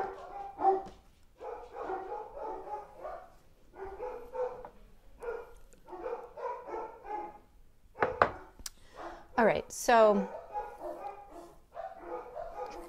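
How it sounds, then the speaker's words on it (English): Dogs bark repeatedly in rhythmic bursts from nearby, with a few yelps and whines mixed in and a brief spoken phrase under them. "I apologize for the dogs."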